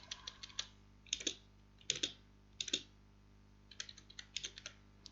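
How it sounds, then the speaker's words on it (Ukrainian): Text being entered into a spreadsheet cell on a computer keyboard: sparse, crisp keystrokes in small bursts with pauses between them, close and fairly quiet over a faint steady hum, with no talking. "з клавіатури вводити якийсь текст"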